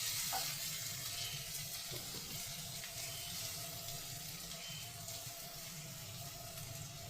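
Sliced mushrooms and cauliflower florets frying side by side in a pan, giving a steady, quiet, hissing sizzle that holds evenly throughout, with no talking.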